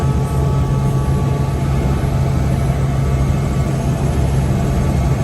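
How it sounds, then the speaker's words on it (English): A helicopter on a tour out of Las Vegas toward the Grand Canyon spins its engines up to full speed before takeoff, a loud, steady, close engine drone with a whining hum, with no talking. "this took quite a bit of time before he got the engines up to full speed"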